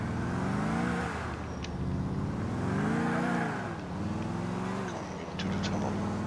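A car tears along fast in GTA IV, its engine steadily loud and close, the revs rising and falling in repeated surges as it accelerates and eases off.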